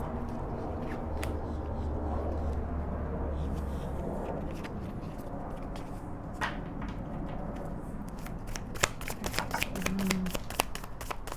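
Tarot cards being shuffled by hand during a reading, a steady papery riffling with a few cards slipping out, closer clicks and flicks toward the end, moderately quiet.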